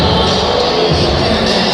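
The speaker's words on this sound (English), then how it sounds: "the crowd is filling up here" A boxing crowd fills an indoor hall at Merrick Recreation Center, a dense, loud wash of overlapping chatter and murmur with no distinct cheers, steady throughout.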